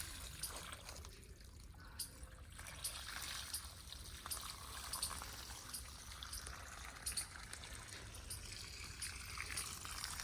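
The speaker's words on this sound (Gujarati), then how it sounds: "કેવું ગાર્ડનમાં પાણી પાય આર્યન" Water is poured onto a garden, trickling and splashing faintly in a steady flow with small irregular spatters, quiet and somewhat distant, with no voices heard.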